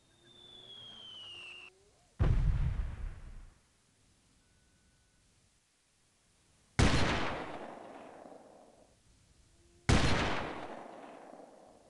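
Three booming artillery-style blasts from the video game Delta Force 2 during a called-in fire mission, each a sharp loud impact with a long rumbling decay, after a short stretch of radio-like tone and quiet gaps.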